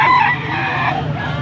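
A one-year-old bull stag rooster, offered for sale at a summer poultry sale in Pampanga, crows close and loud for about a second and a half, its call dominating with no talk over it.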